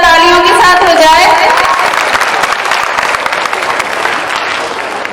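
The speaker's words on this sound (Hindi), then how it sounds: "हमारे नन्हे मुजाहिद का खैर मकदम जरा जोरदार तालियों के साथ हो जाए।" An audience applauds at a school annual function, a broad wash of clapping that follows a sustained electronic tone or whistle at the start and gradually fades toward the end.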